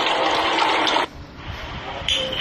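Water pours steadily over drained noodles in a colander, a loud gushing splash that stops abruptly, then a quieter trickle before the flow resumes briefly.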